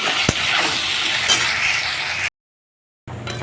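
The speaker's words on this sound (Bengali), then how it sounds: "দেখো না এমনি ভাজা হয়ে যাবে" Onions sizzle steadily in a hot pan for a katla fish curry, with occasional stirring scrapes, then a brief silence before the frying resumes.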